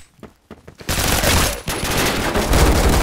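Rapid automatic gunfire from a Phantom Forces shooter match, a few scattered shots at first, then a sustained, loud barrage of fire and impacts.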